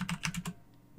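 Keys clatter on a computer keyboard in a quick burst of about five presses, then a short pause and one more keystroke, close and clear with no talking.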